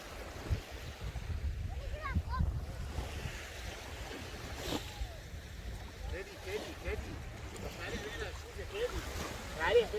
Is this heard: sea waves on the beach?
yes